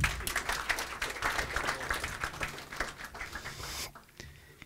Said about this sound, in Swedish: En applåd till